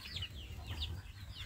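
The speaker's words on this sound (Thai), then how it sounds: "นี่ไก่ต๊อกเลี้ยงไก่ต๊อกด้วยนะครับ10ตัว" Guinea fowl at a farm give repeated high, scratchy calls, a few close cries over a steady low rumble, with no talk.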